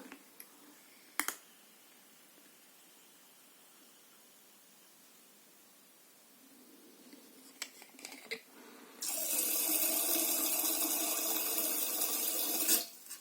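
Water pours steadily into a pigeon drinker, about a liter, for several seconds after some quiet handling and a few clicks, filling noisily until it stops.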